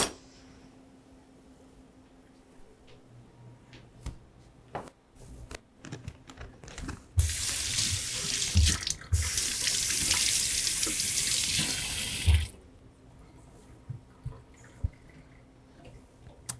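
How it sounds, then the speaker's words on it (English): A kitchen tap runs into a sink for several seconds as vegetables are rinsed, a loud steady rush between quieter clinks and handling knocks before and after. "what I'm going to do is go rinse my vegetable"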